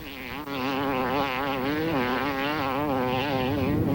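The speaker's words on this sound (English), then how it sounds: "Listen to the engine. He never lets off." An off-road race motorcycle engine screams at full throttle over rough dirt ground, a loud, continuous high-revving buzz with wavering pitch as the rider holds it flat out, close and unbroken.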